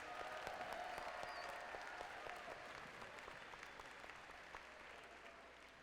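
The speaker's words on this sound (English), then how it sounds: "Let's give them one more round of applause." Audience applause at the opening ceremony of a 2016 FRC robotics district event in Wilsonville, a steady wash of many hands clapping in a large hall that holds at a fairly even level and fades only slightly.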